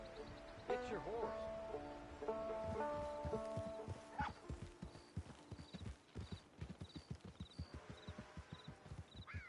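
Steady clip-clop of horse hooves in a brisk walking rhythm in Red Dead Redemption 2 Online, with a short whinny near the start and some music-like tones underneath.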